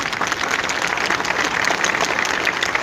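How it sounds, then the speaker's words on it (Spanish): Congregation applauding during a church service in Houston, a dense, steady patter of many hands clapping at once, fairly close and sustained throughout with no voices over it. "Denle un aplauso al Señor para disimular este comercial."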